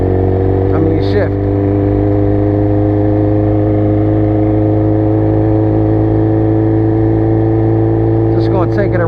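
A motorcycle engine runs steadily at a constant hum, heard up close while riding around the block, with a brief voice near the start and another near the end.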